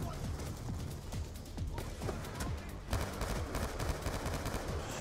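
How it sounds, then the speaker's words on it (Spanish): Rapid bursts of Call of Duty: Black Ops 2 gunfire, dense and continuous, with a voice occasionally speaking over the shooting. "Nos están disparando"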